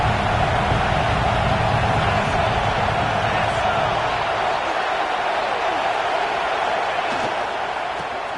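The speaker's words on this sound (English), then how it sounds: "This crowd knows when to bring it." A stadium crowd at a football game roaring in a loud, continuous wash of noise that eases off slightly toward the end.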